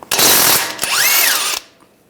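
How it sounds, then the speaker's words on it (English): A 16mm socket on a power tool whirs loudly and steadily for well over a second, spinning the nut off a front lower control arm bolt on a 2013-2016 Dodge Dart, then winds down; no talking. "Use a 16mm socket, take the nut off."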